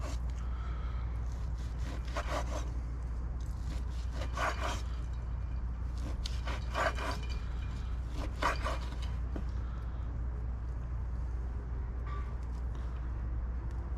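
A knife cutting smoked tri tip into quarter-inch slices: repeated rasping strokes come in regular bursts about every two seconds over a quiet background hum.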